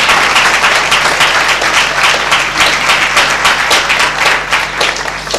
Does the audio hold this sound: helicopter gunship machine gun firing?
no